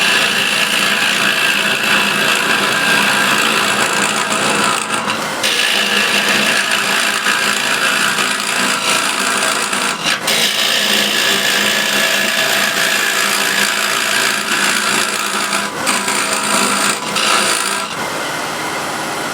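A square scraper works ebony wood on a spinning lathe, giving a loud, steady rasping hiss. It breaks off briefly several times as the feed changes, then resumes.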